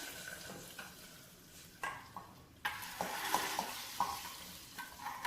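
A hot oil tempering with red chillies sizzles and crackles loudly in a pan as it is added to sambhar, a sharp hiss bursting in partway through and continuing with spattering pops and a few metallic clinks.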